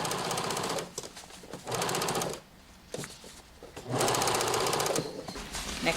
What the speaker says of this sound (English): we're stitching this down again, 1 centimeter seam allowance as always.